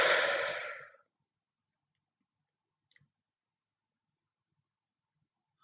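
A deep, forceful exhale during a sophrology relaxation exercise, one long loud breath out lasting about a second, then near silence with a couple of faint small clicks and the start of another breath.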